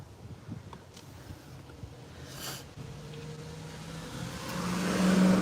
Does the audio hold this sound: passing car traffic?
yes